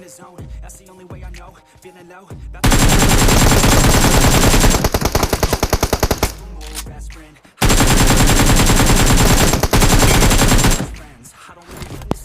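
Automatic rifle fire from the BGMI mobile battle royale game rings out in two long, loud, continuous bursts of rapid shots, separated by a short pause, with quieter game sounds before and after.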